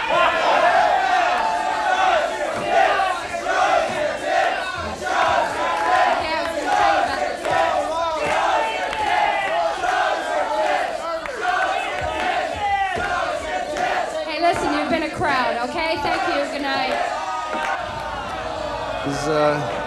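A rowdy bar crowd heckles and shouts nonstop, loud overlapping voices, yells and chatter filling the room close by for the whole stretch.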